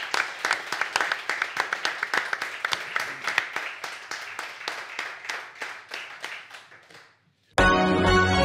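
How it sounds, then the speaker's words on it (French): A small radio studio audience claps steadily for about seven seconds, the applause fading out before loud music cuts in. "qu'on applaudit encore une nouvelle fois"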